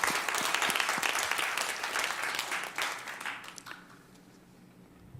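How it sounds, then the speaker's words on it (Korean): Congregation at a Christmas worship service at a Korean Methodist church claps in praise, a broad wash of applause that holds steady, then fades out over the final seconds. "아기 예수님 오신 예수님에게 우리 박수로 한번 이렇게 경배하겠습니다"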